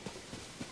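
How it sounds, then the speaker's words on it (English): Horse hooves clip-clopping in The Legend of Zelda: Tears of the Kingdom video game, three soft, quick, evenly spaced thuds, faint and brief. "It appears is just a really big horse up for taming"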